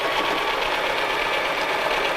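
A sewing machine stitches a child's first tote bag, making a continuous close mechanical whirr with fast, even needle clatter and nobody talking.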